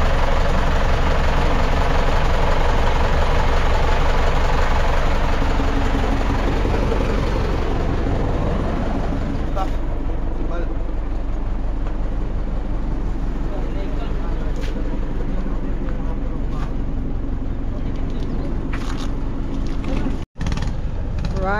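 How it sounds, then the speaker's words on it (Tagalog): A boat engine runs steadily at close range with a dense low rumble throughout, over ambient noise, while voices talk over it. "43 ito lang yung makina mga ka-Rocky."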